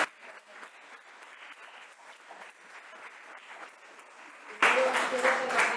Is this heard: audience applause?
yes